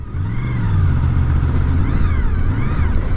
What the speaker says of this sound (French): Le bruit du V4